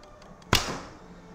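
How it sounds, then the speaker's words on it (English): A carbon or bamboo arrow leaves a Yuan style Simurgh bow from Sarmat Archery with one sharp, close snap and whoosh, then a short fading hum from the string, with faint small sounds before it. "I need to shoot another target."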